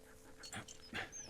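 Dog panting in the World War I video game Valiant Hearts, a few quick breathy puffs close by, soft and brief with no talk over them.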